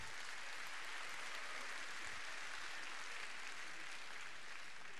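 An audience applauds Philippe de Villiers, creator of the Puy du Fou, in dense, continuous clapping that holds at a steady level from start to finish.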